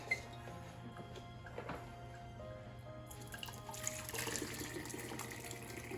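Braised turkey cooking liquid splashes and trickles as it is poured out, starting with faint drips over a low hum and building into a brighter, steady gush of liquid.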